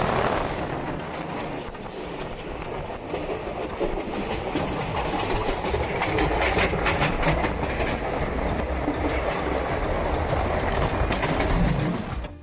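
A passenger train runs on as it arrives at Thane railway station, with a steady loud rumble and rapid clickety-clack of wheels over rail joints throughout, with no talking.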